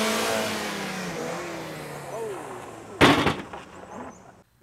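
A car engine revs up and accelerates, its pitch climbing over a few seconds before a sharp burst of noise cuts in, fairly faint and mixed with background sound.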